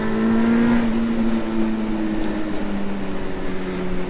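Motorcycle on a dynamic ride through the Gorges de la Bourne, accelerating hard past cars, its engine a loud, close, steady drone with a rising pitch that eases slightly toward the end, with no talk over it.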